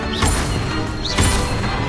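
Two quick bursty spell impacts about a second apart from a fire-casting charm in a wizarding video game, each with a short rising whistle over a loud, dense crackling wash, with no talking.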